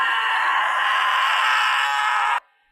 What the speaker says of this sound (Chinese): 接着便是痛苦的惨叫